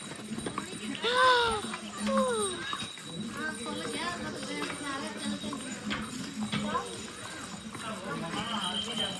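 Horse hooves clip-clop along a pilgrimage path to Vaishno Devi amid busy outdoor noise, with other animals and people talking around, moderately loud throughout.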